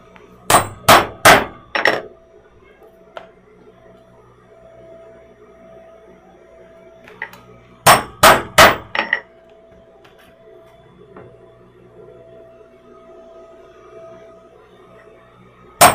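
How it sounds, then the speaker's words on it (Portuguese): A hammer punches holes in a fabric bag, striking in two quick clusters of about four sharp metallic clangs each, with a lone knock at the end, in a quiet room. "Vou furar aqui."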